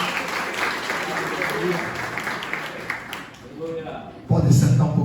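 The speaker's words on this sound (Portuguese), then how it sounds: "Palmas para Jesus, Senhor." Worshippers at a church couples' retreat clap together in praise, a dense, continuous patter of applause under a lively room, with a louder, fuller burst of sound near the end.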